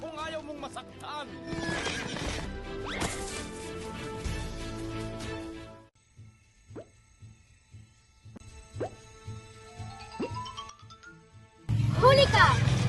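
A horse whinnies amid a loud outdoor scene with people talking and shouting, followed by scattered hoof clops and thuds in a quieter stretch before the noise swells again.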